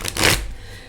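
A tarot card deck gets a brief riffling shuffle, a short crisp flutter of cards up close that fades quickly into quiet.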